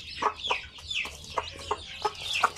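Basilan and Zampen native cross chicks cheep and cluck in a quick run of short, bright calls, about six distinct chirps spaced irregularly, close by with a faint background hum and no talking.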